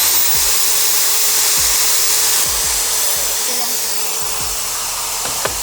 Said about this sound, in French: nous allons ébavurer les deux extrémités de nos barres